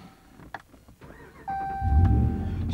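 After a few faint clicks and an electronic chime, a Dodge Ram pickup's Hemi V8 with about 160,000 miles fires up by keyless remote, ending in a low, swelling engine rumble.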